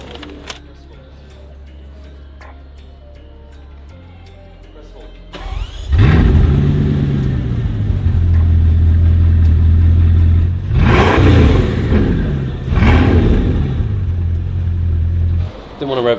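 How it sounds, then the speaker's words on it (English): A Lamborghini Veneno supercar in a large showroom starts up after a quiet stretch of background noise, then idles with a loud, deep rumble and two sharp revs that rise and fall, up close, while people talk nearby. "Didn't want to rev it too loud."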